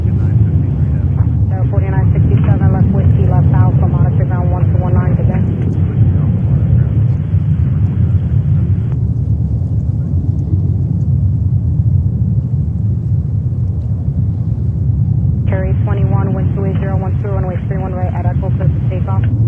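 A jet airliner rolls for takeoff on runway 31 left at JFK, a continuous low, heavy rumble that holds steady throughout, while radio voices talk over it in two stretches.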